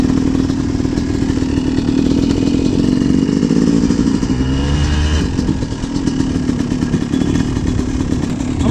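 Yamaha YZ250 dirt bike engine running steadily near and loud, its pitch dipping and shifting midway as the rider changes gears before settling back to a constant drone.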